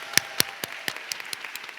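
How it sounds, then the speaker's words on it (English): Sparse, separate claps ring out at an awards ceremony for the Samoan warriors of the Samoan Community Development Center, about nine distinct hand claps in under two seconds, fairly faint and evenly spaced. "let's give another round of applause to the Samoan warriors from the Samoan Community Development Center"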